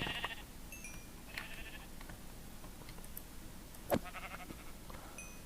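Sheep in the Minecraft video game bleat in a few short, faint calls scattered over a low background hum, with one brief louder click near the end.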